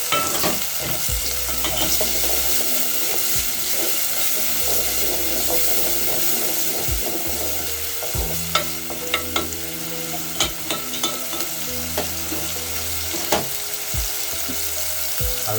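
Tomatoes and peas fry in a pot for a potato and pea stew, sizzling steadily up close with intermittent stirring scrapes and clicks over a low, pulsing hum.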